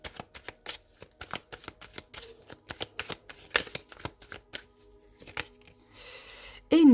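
Tarot cards shuffled and drawn by hand in a series of quick, crisp riffling flicks and slaps, close and fairly quiet, ending with a brief louder rustle as a card is laid down.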